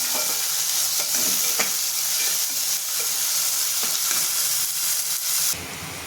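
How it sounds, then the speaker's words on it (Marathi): Peas and washed dal sauté in a pan while upma is made, giving a loud continuous sizzle with repeated stirring scrapes. The sound thins out near the end. "मी मटर टाकून घेते आणि आपण जी डाळ घेतलेली ती स्वच्छ धुवून घेऊन टाकून घेते त्याच्यात ती पण परतून घेते"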